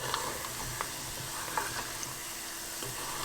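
Ginger and garlic sizzling in hot oil for Chinese chili oil, a steady, fairly quiet crackling hiss with a few faint clicks of a utensil against the pan, close by and with no voices.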